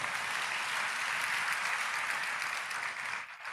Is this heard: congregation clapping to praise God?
yes